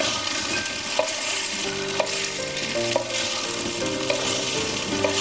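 Rice is stirred slowly in ghee in a pot alongside sautéed onions, with a continuous gentle sizzle and regular spoon knocks and scrapes against the metal, without any voices.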